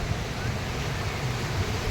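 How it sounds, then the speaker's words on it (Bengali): Big sea waves roll in at high tide near the Digha estuary, making a continuous loud wash of surf with a low rumble underneath, steady and close with no talking. "দেখুন কি বড় বড় ঢেউ আসছে।"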